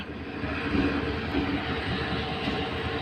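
A passenger train runs past Goalpara town with a continuous low rumble and rolling wheel noise, heard steadily throughout.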